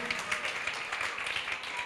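A church congregation applauding during a Spanish-language worship service: steady, moderately quiet clapping from many hands, sustained and evenly spread, with no voices standing out over it.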